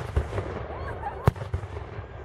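Several booming blasts from a British cannon volley over a steady background rumble, one sharp loud report standing out near the middle among softer distant thuds, with faint voices beneath.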